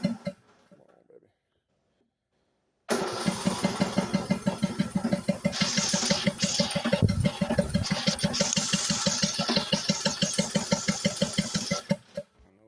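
Small farm buggy engine cranked after a brief quiet spell, then running with a rapid, choppy chugging pulse for several seconds before cutting off, close by, with a voice talking briefly.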